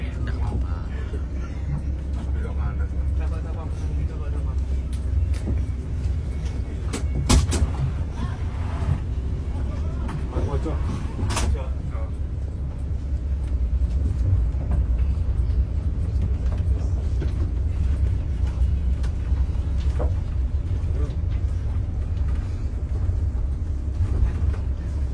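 A 27Trans intercity bus on its first run from Sragen to Jakarta via Gemolong, heard from inside the cabin as a steady, loud low engine and road rumble that continues throughout, with people talking over it.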